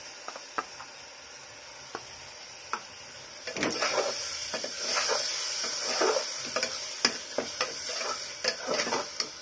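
Ginger garlic masala paste frying in a pan for an Odia chicken curry gives a continuous close sizzle, with occasional light taps and spatula scrapes that thicken into a busier crackling stretch midway, and no talking.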